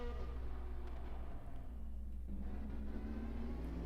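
Steady low hum of an IndyCar-style race car engine with Buick power on the Indianapolis 500 track in a racing video game, a continuous drone with a slowly shifting pitch and no talk.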